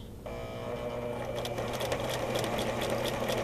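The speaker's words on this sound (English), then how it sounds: "I'm going to go forward 3 or 4 stitches, and then I'm going to go backwards 3 or 4 stitches with the reverse button" A sewing machine starts up and runs steadily, stitching forward and then in reverse along a fabric edge, a close, even mechanical whir with rapid ticking needle strokes and no talking.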